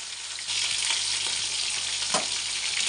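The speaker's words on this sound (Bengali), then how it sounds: "দুইবারে মাছটা ভাজবো। একটু হালকা ভাজা দেবো, বেশি ভাজা দেবো না।" Fish pieces frying in hot oil in a home kitchen, a steady close broadband sizzle that swells after the fish goes in and keeps crackling evenly, with a few faint utensil stirring taps and no talking.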